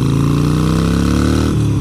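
A Harley-Davidson Sportster motorcycle engine runs loud and close, with a steady rumbling throb that shifts in pitch near the end.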